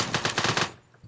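Rapid burst of video game gunfire, about five sharp shots in quick succession, loud and close, then cutting off into quiet.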